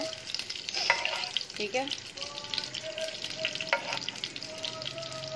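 Ghee sizzles in a pan while a spoon stirs and scrapes, a steady close frying hiss with clinks and scrapes throughout; someone briefly speaks.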